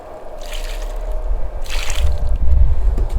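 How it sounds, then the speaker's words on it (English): Water poured onto dry bare-root raspberry plants, a soft continuous splashing and trickling into soil that grows louder and heavier toward the end, with no talk. "now I'm just going to give them a little drink of water because those roots looked really dry"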